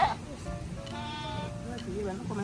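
Goats bleat in wavering, nasal cries, several overlapping calls nearby, with a person talking over them.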